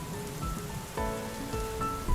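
Rain falls in a steady, even patter on surfaces nearby, with a few brief brighter tones rising over the wash and no voices.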